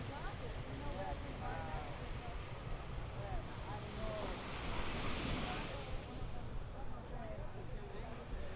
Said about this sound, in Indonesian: Oke, kita lanjut melihat-lihat suasana di Pantai Kuta Bali.